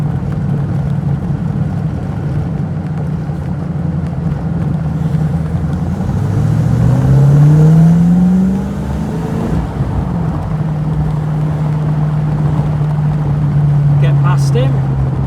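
A V8 car cruising through the Derbyshire Peak District, its engine a steady low drone heard from inside that swells and rises in pitch midway before settling back to an even hum.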